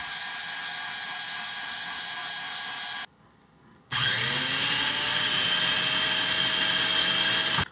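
A Goat Story Arco electric coffee grinder runs loudly with a high, steady motor whine. It stops briefly, then restarts with a louder, rougher grinding whir that holds until it cuts off.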